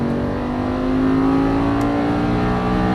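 An Audi R8 race car howls at full throttle on a track, its engine note loud and steady with a rising, strained pitch as it accelerates hard.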